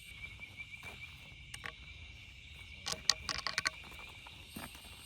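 A night chorus of frogs in coastal Georgia keeps up a steady high trill, with clusters of sharper chirps and clicks bunching together toward the end.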